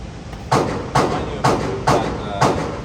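A Taurus TX22 pistol fires five evenly paced shots at a target seven yards away on a shooting range, each report sharp and fairly close.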